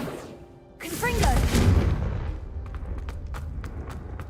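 A Confringo blasting spell goes off in Hogwarts Legacy: a sudden, loud, booming burst with a swirling magical shimmer, followed by a long, rumbling decay. Faint sparkling ticks trail off at the end.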